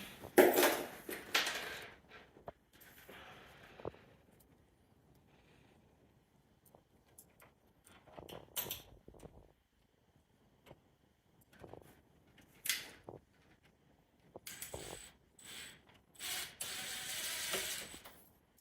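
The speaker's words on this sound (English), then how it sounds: "And then we're going to put the faceplate back on." Faceplate being screwed back onto a Gainsborough Trilock door lock during a spring replacement, with scattered metallic clicks, scrapes and rattles of hand work, several loud bursts near the start and end, no talk.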